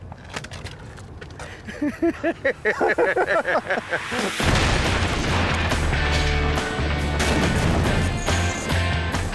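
A crash test dummy launched from a cannon, heard as a chaotic sequence of loud cracks and booms, followed by a sustained roaring blast and rumble with excited voices mixed in.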